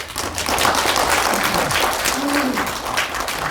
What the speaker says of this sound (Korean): 첫 번째 발제해 주신 이주원 부산고고학회장께 다시 한번 큰 박수 부탁드립니다